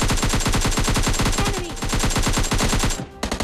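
Rapid automatic gunfire in the mobile shooter PUBG Mobile Lite, a loud unbroken burst of evenly spaced shots lasting about three seconds before stopping abruptly, followed by a couple of fainter shots.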